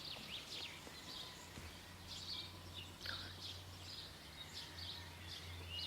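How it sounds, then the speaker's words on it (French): A song thrush sings outdoors in a series of bright, repeated chirping phrases at moderate distance, with steady low background hum and no talking. "Grive musicienne."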